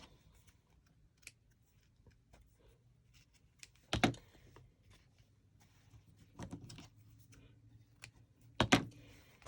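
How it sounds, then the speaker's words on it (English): Scissors snip sewing threads in a quiet room, three short crisp cuts spaced a few seconds apart, with faint handling noises between them. "going to cut my threads."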